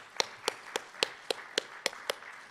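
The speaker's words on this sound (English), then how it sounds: "Dr. Kosam, we are clapping for you." Slow, evenly spaced claps, about eight sharp hand claps at a steady rhythm, faint and fairly close, from an audience at a university conference in honor of Dr. Kosam.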